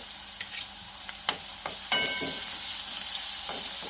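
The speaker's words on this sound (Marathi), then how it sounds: "हे छानपैकी असं फ्राय झालं" Onions frying in a pan with salt and a pinch of turmeric, a steady bright sizzle with a few scraping stir clicks, close and fairly loud, no talking.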